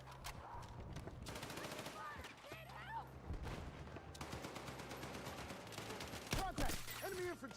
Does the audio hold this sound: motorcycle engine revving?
no